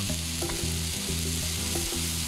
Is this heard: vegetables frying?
yes